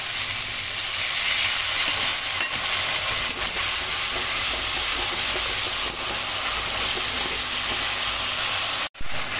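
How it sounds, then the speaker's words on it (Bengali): Potato and pointed gourd curry with tomato sautés in a pan with splashes of water, giving a loud, continuous sizzling hiss with faint stirring and a brief sharp knock near the end. "অল্প অল্প জল দেবো আর কষাবো।"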